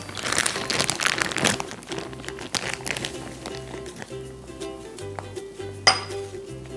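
Homemade three-ingredient ice cream frozen in a plastic bag being scooped out, giving close crinkling of the bag, scraping, and light clinks of a utensil, with one sharp clink near the end.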